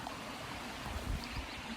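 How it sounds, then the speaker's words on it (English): Running water of a stream beside a grassy campsite on the West Highland Way in Scotland, a steady close rushing and babbling wash with no talk. "you've got running water right beside"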